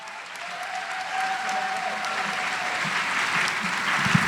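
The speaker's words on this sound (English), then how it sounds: "let's give her a round of applause" Steady audience applause fills a pageant hall at the Ms Senior DC Pageant, dense and sustained throughout, building slightly, with a faint tonal whistle or feedback line under the clapping.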